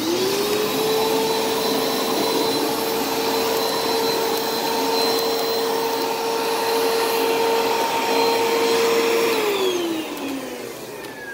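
A vacuum cleaner in floor cleaning mode running as a loud, steady, close motor whine with a constant pitch, then winding down near the end, with no speech.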